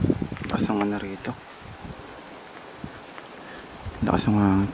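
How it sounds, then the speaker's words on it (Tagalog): Strong wind blows across an abandoned island as a steady broadband rush, with people talking at the start and end. "Lakas ang hangin."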